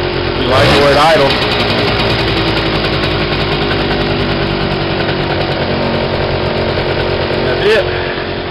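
A Suzuki Quad Sport 80 quad's small engine idles steadily throughout after carburetor cleaning, a loud continuous buzz with a brief rev near the start and another small blip near the end.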